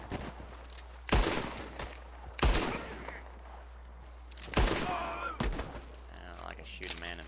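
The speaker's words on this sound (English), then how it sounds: "You shoot that lock." Gunshots in Red Dead Redemption 2 aimed at a lock, four sharp, loud reports spaced a second or more apart, each with a brief ringing tail, over a quiet background.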